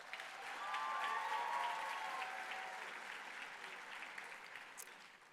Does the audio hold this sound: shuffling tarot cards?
no